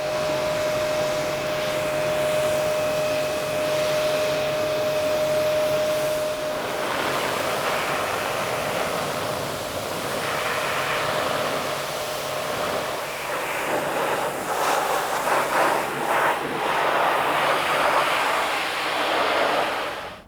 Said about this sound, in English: So now it's time just to gently rinse off the shampoo.